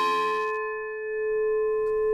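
An untuned bell fresh from the foundry is struck once, a bright clang quickly giving way to a few steady ringing partials that hum on quietly and evenly with no voices.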